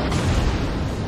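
Heavy naval gunfire from a King George V battleship in World of Warships booms loudly, a dense, rumbling blast that fills the whole moment without a break.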